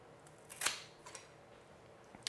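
A single sharp snip cuts through a houseplant stem, heard up close in a quiet indoor setting, followed by a couple of faint clicks.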